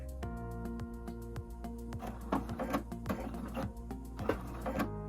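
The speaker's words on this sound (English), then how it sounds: "Put my foot back down and carry on a couple more stitches." A sewing machine runs a straight stitch in short bursts with brief pauses, its rapid mechanical clatter steady and close, with light handling noises between runs.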